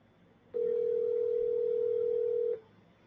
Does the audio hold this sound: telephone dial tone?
yes